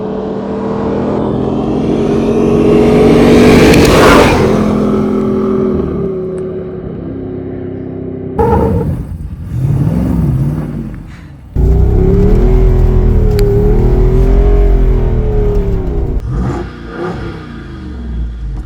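A Jeep Wrangler 392 V8 engine revs up loudly, falls back, then revs again in several throaty bursts, close by with no talking.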